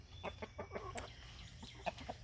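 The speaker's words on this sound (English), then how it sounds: "That is Mac, who is not my favorite rooster." A farmyard rooster clucks in quick, soft bursts, a few short calls in a row close by, faint over a low background rumble.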